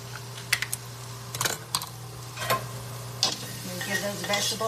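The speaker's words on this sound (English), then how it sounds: "Give those vegetables one more stir" Vegetables for a kale and spinach soup being stirred in a pot, with scattered clanks and scrapes of a utensil at irregular intervals over a steady low hum and faint sizzle.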